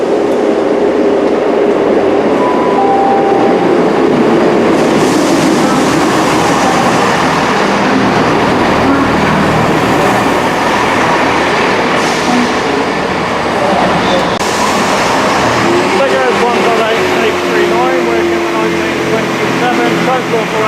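A Class 158 diesel unit in Transport for Wales livery pulls into a station with a continuous loud rumble, squealing brake tones and rail clatter, and a voice talks over it.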